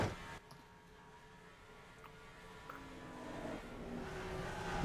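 Race trucks rounding the third turn at the Rock in an NRSL Advocare Truck Series race, a blended roar of engines that is steady and fairly distant, swelling slightly as the pack comes through.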